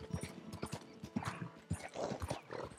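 Horse hooves clip-clop at a steady gait in the video game Red Dead Redemption 2, close and rhythmic, mixed with saddle and ambient game sounds.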